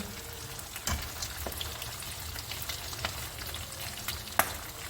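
Fish fries in a pan under a mesh splatter screen, a steady close crackling sizzle with scattered sharp pops and spits.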